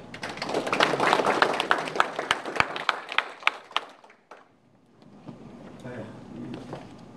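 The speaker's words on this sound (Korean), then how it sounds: "큰 박수로 맞이해 주시기 바랍니다." Audience clapping at a formal ceremony for a chamber of commerce chairman in Jinju, Korea; a burst of fairly close applause with distinct individual claps that fades out, followed by quieter room noise.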